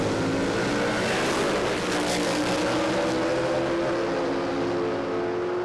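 A drag racing car's engine roars at Willowbank Raceway in Australia, a loud continuous snarl with rising and falling pitch as it revs hard and then backs off, filling the whole stretch without any voices.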